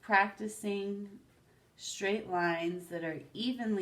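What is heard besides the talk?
None of the usual background noises is heard.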